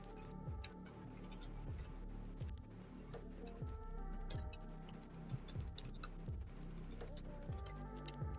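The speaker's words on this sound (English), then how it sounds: "Just typing into the chat." Someone types on a computer keyboard, a quiet, steady run of clicks and taps with uneven rhythm that carries on alone throughout.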